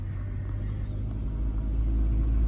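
A car moving along in low gear with light throttle gives a deep, steady engine rumble from inside the cabin that swells slightly toward the end.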